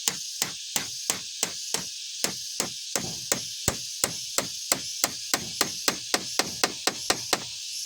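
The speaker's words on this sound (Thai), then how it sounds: "ตอนนี้ใบแบบนี้เขาก็ตอกเข้าเลย" Steady hammer blows drive nails into wooden boards on a chicken and duck coop, about twenty sharp, evenly spaced strikes, loud and close with no talk.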